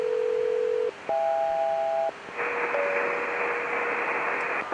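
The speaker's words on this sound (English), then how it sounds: "as you can hear, there was the chime. That means that the cell call was successful." SELCAL chime in the cockpit of an Air Canada Boeing 767-300ER, a pair of steady two-tone electronic chimes ringing clearly over the constant hiss of radio and cockpit noise, with no one talking.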